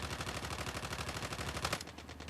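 Rapid automatic gunfire in Call of Duty rattles in a fast, regular burst of sharp shots, loud and close, ending abruptly into quieter fading echoes.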